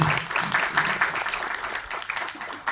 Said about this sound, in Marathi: प्लीज एकदा सरांसाठी टाळ्या होऊ दे.